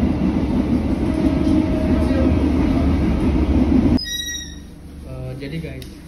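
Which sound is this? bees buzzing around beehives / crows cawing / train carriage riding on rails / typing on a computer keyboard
train carriage riding on rails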